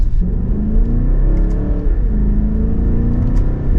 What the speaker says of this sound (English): I like the noise from this V8. Definitely has a good, healthy note to it.